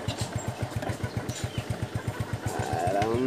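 A Yamaha Mio Sporty scooter with an engine oil leak idles close by, giving a steady, rapid chugging pulse that grows rougher and louder toward the end.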